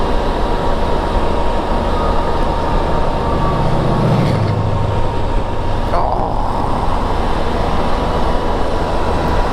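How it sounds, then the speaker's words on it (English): A freight train rolls past at close range, making a loud, steady rumble and rushing roar that continues without letup the whole time. "Oh no, I'm missing a train."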